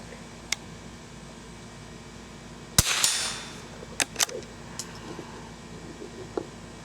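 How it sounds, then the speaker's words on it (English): Remington 510 Targetmaster rifle shots at an outdoor range with metal targets: a few sharp cracks spread across the span, one louder report followed by a ringing metallic wash, then lighter clanks and pops. "You're hitting metal, but I'm not sure which one you're aiming at."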